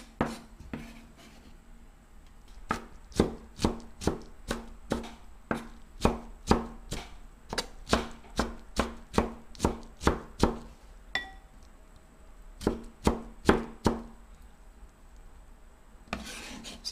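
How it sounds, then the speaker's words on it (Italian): A knife chops cucumber into tiny cubes on a cutting board, a steady run of sharp, close taps in quick bursts with short pauses between them, and no talking. "poi dopo aver fatto i filetti lo tagliate anche a cubettini"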